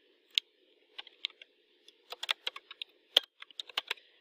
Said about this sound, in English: I'm going to add just a couple students just by typing them in.